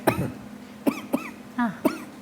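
A person imitates the cough that starts an asthma attack, giving a few short, dry barks spaced about half a second apart, close and fairly loud.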